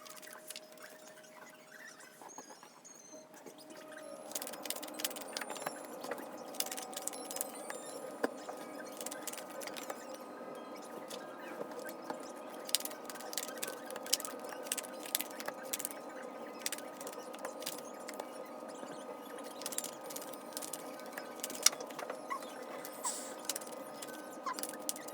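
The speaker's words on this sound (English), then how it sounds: "let me pull some extra cards for you" Oracle cards being pulled and handled, a long run of soft ticking clicks, shuffles and card snaps close by, steady and irregular with no talking.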